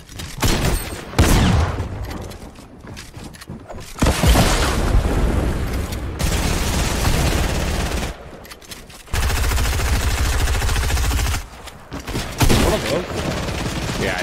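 Heavy gunfire and exploding RPG rockets in the video game Fortnite, with booming blasts and rattling machine-gun bursts arriving in loud bursts separated by short quiet gaps, players talking over the action.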